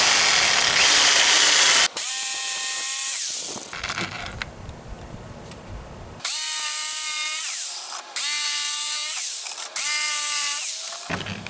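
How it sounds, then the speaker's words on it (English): Jigsaw cutting tenons into wooden bench legs: a loud, close whining motor in repeated bursts of about two seconds each, separated by short pauses and quieter clunking handling. "So our next step in the process will be cutting our tenons, and we're going to do that with the jigsaw."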